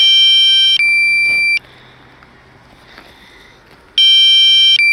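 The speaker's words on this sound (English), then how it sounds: "Sorry that you have to endure the beeps." A drone's low-battery warning sounds as loud, shrill electronic beeps, a sustained tone lasting over a second, then a quiet gap with faint background, then another long beep.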